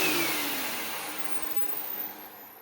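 A Hoover Elite Rewind Plus upright vacuum cleaner runs with a steady, loud broadband whoosh of airflow and suction, the motor tone easing slightly and fluttering toward the end, with no talking.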